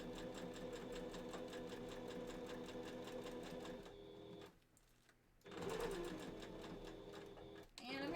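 A sewing machine stitches forward and backward through a fursuit bandanna, running in long steady bursts with a brief pause partway and a short stop near the end, close and loud.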